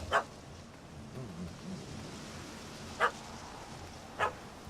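A dog in the video game The Witcher 3: Hearts of Stone gives three short, sharp barks spread out over a few seconds, set against a quiet outdoor ambience.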